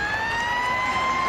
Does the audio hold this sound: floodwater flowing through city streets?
no